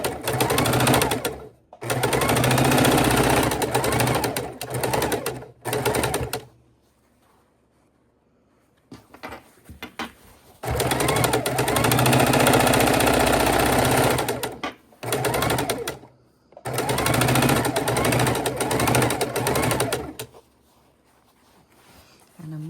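A sewing machine stitches quilt pieces in three long, loud, steady runs, each lasting several seconds and separated by short pauses with near silence.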